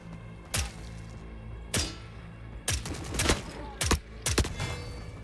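Gunfire in the foggy shooter video game The Forever Winter: five or six heavy, booming shots spaced about a second apart, some in quick doubles, over a steady low ambient rumble.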